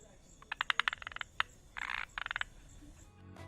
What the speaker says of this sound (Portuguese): a rã planadora de Malabar pode ser reconhecida pelo seu canto único